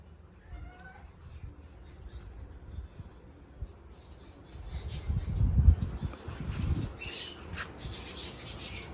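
Pigeons shuffle and flap their wings in a coop, with soft rustling, occasional calls and a burst of louder flapping midway.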